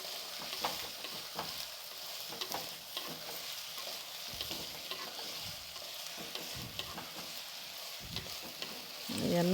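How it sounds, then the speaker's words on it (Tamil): Brinjal sautéing in oil for a village-style cowpea kuzhambu crackles with a continuous sizzle, broken by frequent stirring clatters and scrapes of the spoon against the pan. "கத்திரிக்காயை இந்த எண்ணெயிலேயே நம்ம நல்லா வதக்கிக்கலாம்"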